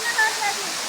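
Torke Jharna waterfall roars as a dense, steady rush of falling water nearby, with people talking faintly over it.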